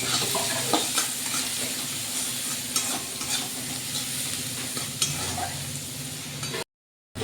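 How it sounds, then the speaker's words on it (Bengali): Onions sizzle and crackle steadily in hot oil in a pan with a little salt, with stirring scrapes throughout, close and continuous before a short silence at the end. "পেঁয়াজ লাল লাল করে ভাজা হয়ে গেছে"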